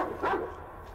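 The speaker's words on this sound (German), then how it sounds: "Wo ist denn da der Hund?" A dog barks once in the video game Metro Exodus: a short, muffled yelp near the start over a low in-game ambient hum, then only a quiet background.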